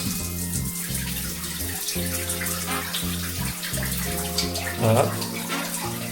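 Hot water gushing steadily from a tap outdoors during a survival trip along the Rhône, a constant splashing rush that swells briefly near the end, with someone speaking over it.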